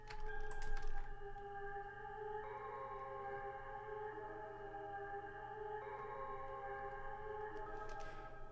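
A Ghost House ambient pad synth from the Expand plugin holds a soft, sustained melody with smooth note changes every few seconds, quiet and airy, with a few faint keyboard clicks at the start and end.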